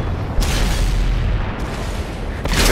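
Tank cannon shots boom in a World of Tanks battle, a few heavy blasts spaced apart over continuous engine rumble, loud and close.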